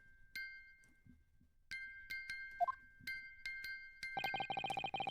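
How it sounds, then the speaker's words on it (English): A music box in a video game plays sparse, tinkling bell-like chimes with a few isolated notes, then a faster run of bright repeated tones near the end, all fairly quiet. "the sound emanating from this music box is not supposed to be music"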